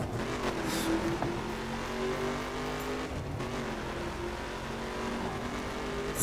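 Car engine in the racing video game The Crew, a steady loud droning roar with shifting pitch as the car drives a winding road, continuous for the whole stretch with a brief rise in revs early on.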